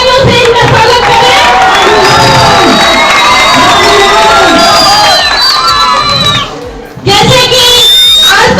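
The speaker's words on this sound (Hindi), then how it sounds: "जोरदार तालियों से इनका स्वागत करें" A crowd at a municipal councillor campaign gathering welcomes a speaker with loud cheering and shouting, including children's voices, close and continuous. It dips briefly near the end before surging again, and voices talk through it.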